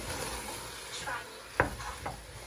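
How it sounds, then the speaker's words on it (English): Ginger and garlic cook in broth in a sufuria pot, a soft steady sizzle with a few light scrapes and one sharper utensil knock on the pot. "And let the ginger cook well and the garlic."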